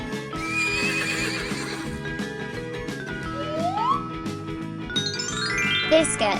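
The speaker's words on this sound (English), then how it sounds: "Horse." A horse whinnies with a rising neigh and a few clip-clop hoof beats, set against steady, cheerful children's music that keeps playing at the same level the whole time.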